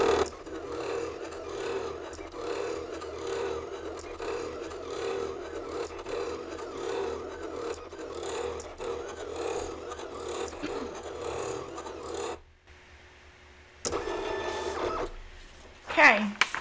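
A Silhouette cutting machine cuts stickers with a continuous whirring, buzzing motor and carriage movement, sped up, breaking off briefly before a short burst of clattery mechanical noise; a voice talks intermittently.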